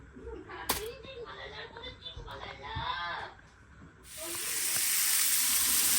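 Vegetables being stir-fried hiss and sizzle in a pan, with scattered clinks and scraping first, then a loud, steady frying hiss taking over for the final seconds.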